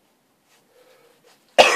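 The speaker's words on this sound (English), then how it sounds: "don't know why I'm coughing" A single sharp, close cough bursts out after near silence, from a man reacting to the capsaicin in a 7 Pod Jonah pepper.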